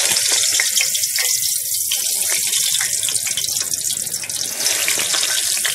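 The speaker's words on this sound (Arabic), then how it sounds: "نسقطهم بالزيت." Eggplant pieces frying in hot oil give a loud, steady, close hiss and crackle that stays constant with no talking.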